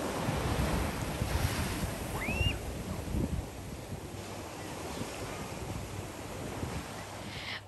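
Sea waves wash onto a sandy beach in Cornwall, a steady broad surf roar with wind buffeting the microphone throughout, no voices.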